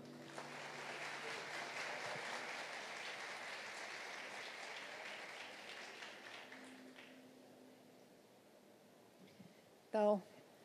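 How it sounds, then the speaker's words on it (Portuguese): Applause from a conference audience at a talk on theatre and psychoanalysis, moderate clapping that fades out over several seconds, followed by a short loud burst near the end. "Vamos aplaudi-la."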